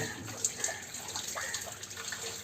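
Water poured over a Labrador's neck during an outdoor bath on a hot day, a soft, steady trickle and splash running close by with no voices.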